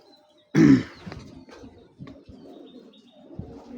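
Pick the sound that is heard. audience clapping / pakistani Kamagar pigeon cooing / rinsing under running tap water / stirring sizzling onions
pakistani Kamagar pigeon cooing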